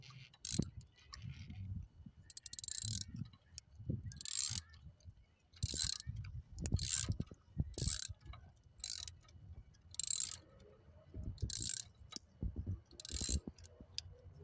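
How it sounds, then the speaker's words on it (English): A ratchet wrench tightens a nut while a truck's coolant thermostat is replaced, giving repeated close bursts of sharp ratcheting clicks in a steady back-and-forth rhythm, with short pauses between strokes and no talking. "Do you feel the nut tightening?"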